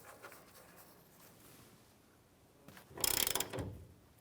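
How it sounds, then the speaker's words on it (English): A ratchet with a 15mm socket tightens shock mount bracket nuts on a 1993-1997 Ford Ranger, giving a short, close burst of rapid clicking after a quiet stretch. "We're going to use our 15mm socket to go ahead and tighten these nuts down"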